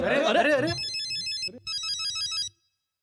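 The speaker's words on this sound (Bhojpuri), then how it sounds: "फोन इतना देर से बाजता सुनात नहीं के का" A phone ringtone plays an electronic melody after a voice, pauses briefly, then rings again before cutting off.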